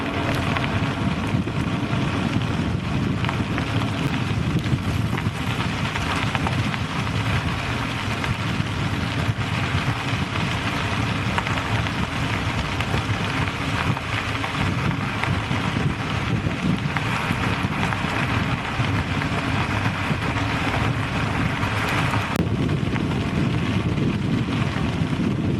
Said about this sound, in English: Oh, it is windy out here.